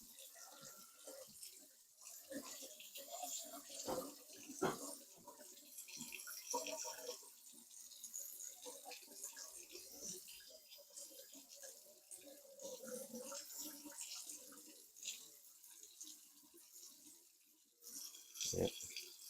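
Tap water running steadily into a clogged, slow-draining sink, a continuous moderate splashing hiss with gurgling bursts near the start, middle and end while people speak quietly.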